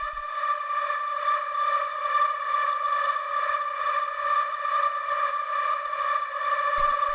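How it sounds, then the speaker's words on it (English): A steady, sustained atmospheric synth pad playing D across two octaves for an industrial hard techno track, smooth and unchanging for several seconds with no other sounds. "After that, we have this atmospheric pad,"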